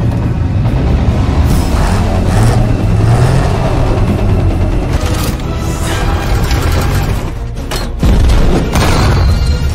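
A T-34 tank's loud, continuous rumbling engine with heavy low booms, grinding forward, constant and close throughout.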